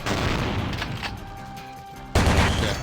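A gun fires in Vampire: The Masquerade - Bloodlines: a sustained loud burst of gunfire fades, then a second sharp, booming volley cuts in near the end, with no voices.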